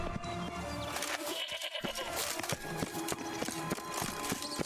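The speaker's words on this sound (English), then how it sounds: "Something's up with this billy goat." A billy goat bleats in The Witcher 3 video game, its calls ringing out close and clear amid steady in-game ambience and a few clip-clop footsteps.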